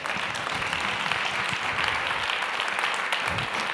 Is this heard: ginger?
no